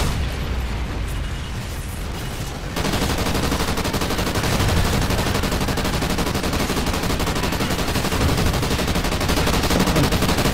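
Heavy gunfire in Call of Duty: Ghosts Extinction mode, a quieter start giving way to a dense, continuous barrage of rapid shots and blasts that stays loud throughout.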